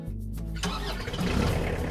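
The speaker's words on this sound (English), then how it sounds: "Start the tractor." A hydrostatic tractor's engine cranks briefly, catches, and settles into a steady, close low rumble, with no talk over it.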